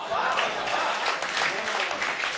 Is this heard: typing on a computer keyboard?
no